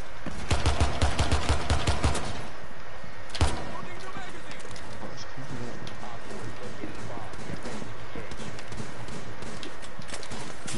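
Gunfire in the video game Rainbow Six Siege: a rapid, rhythmic burst of shots for about two seconds, then one loud single crack, followed by quieter in-game ambience.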